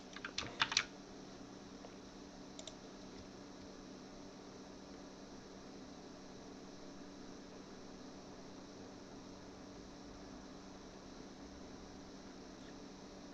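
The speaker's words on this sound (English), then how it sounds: "No, it's just when we're typing." A short quick burst of keystrokes on a computer keyboard opens the sound, followed by a faint steady hum of a fan or room noise, quiet and without speech.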